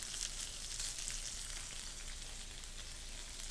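Tiger prawns, bacon, beef and noodles cooking in a samgyupsal and shabu shabu hot pot, giving a steady, even hiss of sizzling and bubbling with no talk.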